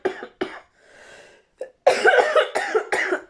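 A woman coughs repeatedly: two short coughs, a breathy pause, then a dense run of harsh, close coughs and throat sounds near the end.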